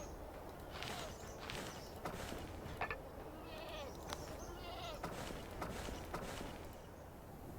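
Goats bleat repeatedly around goat pens in the Anno 1404 Orient setting, several short wavering calls spread over a constant farmyard game ambience, with faint hoof-like clicks and no talk.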